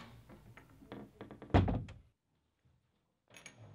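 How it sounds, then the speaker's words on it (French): A door shuts with a loud, solid thunk after a series of softer shuffling taps, followed by near silence and a faint sound at the end. "Au moins, vous fermez la porte?"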